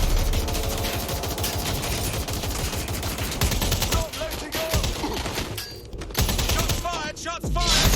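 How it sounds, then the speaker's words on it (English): Rapid bursts of gunfire in the video game Watch Dogs: Legion crackle loudly over a dense game score, with a voice briefly heard amid the shooting. "Shots fired!"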